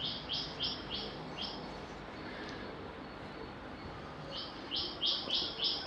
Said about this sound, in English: I hope you can hear the birds singing